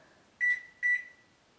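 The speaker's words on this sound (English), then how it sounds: "So the timer went off." Kitchen oven timer sounding two clear electronic beeps, evenly spaced and close, alone in a quiet room while a coconut cream puff bakes.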